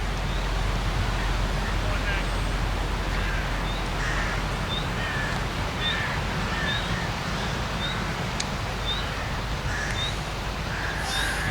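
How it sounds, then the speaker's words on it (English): Crows caw repeatedly at a distance, their calls spread across steady, heavy wind noise, outdoors near trees and horses at a cricket match. "Birds flies over."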